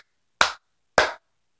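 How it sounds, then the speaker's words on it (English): Two sharp, close hand claps about half a second apart ring out in an otherwise silent room, each with a brief decay. "I will clap also so I can sync the audio easily in post."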